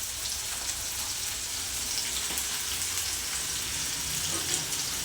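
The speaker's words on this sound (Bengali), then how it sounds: "এবার আমি লম্বা লম্বা করে কেটে রাখা উচ্ছেগুলোকে লাল করে ভেজে নেব" Long-cut slices of bitter gourd fry in hot oil, a steady, dense sizzle that crackles evenly throughout without pause.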